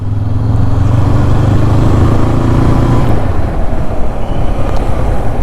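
A Honda CB500F motorcycle riding along a narrow road, its engine a steady low drone with wind buffeting the microphone, loud and continuous, the tone easing slightly partway through.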